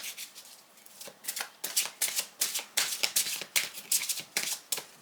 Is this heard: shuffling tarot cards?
yes